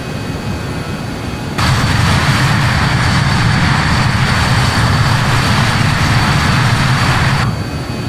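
Four jet engines of a BAe 146 airliner in Microsoft Flight Simulator give a loud, steady roar with a high whine on top. The roar jumps in suddenly, holds without a break for about six seconds, then drops back to a quieter engine hum.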